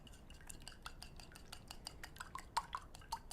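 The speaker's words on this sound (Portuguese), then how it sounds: "Vamos mexer nos ovos aqui" Eggs being stirred in a bowl for breading beef croquettes, giving a quiet run of light metal clinks and taps from a utensil against the bowl, with a few sharper clinks near the end.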